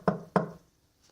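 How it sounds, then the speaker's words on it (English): Two sharp, close bangs of a knock on a wooden cabin door come in quick succession, followed by near silence. "One of them walked up and banged on the door."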